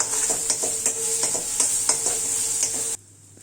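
Tomatoes stirred and sautéed in a hot pan of spiced masala, with a bright continuous sizzle broken by repeated spatula scrapes and taps against the metal, close and fairly loud, cutting off abruptly near the end.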